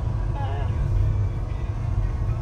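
A fully restored 1938 Ford pickup truck's engine runs with a steady, close, low rumble throughout, with muffled voices in the background.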